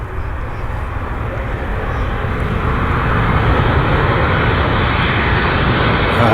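A fixed-wing airliner passes low overhead on approach near Birmingham Airport. Its engines give a loud, broad, steady roar that grows slightly stronger as it passes, heard alone without voices.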